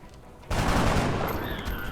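Gunfire from the video game XCOM: Enemy Unknown breaks in suddenly after a quiet moment, a dense, sustained burst of shots and crackle filling the rest of the short stretch with no talk over it.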